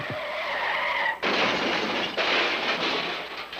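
Car tires skid and screech in long, loud sustained squeals, one cutting into the next, with a rushing noisy roar of traffic and no talking.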